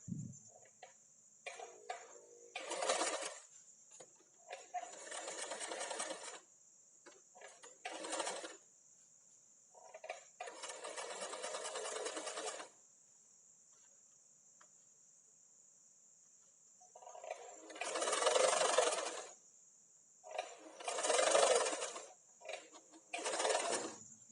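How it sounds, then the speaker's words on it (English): Sewing machine back stitching a straight stitch on an A-line dress, quiet bursts of rapid whirring stitching that start and stop repeatedly, with short pauses between runs. "Make sure you back stitch at the beginning and at the end."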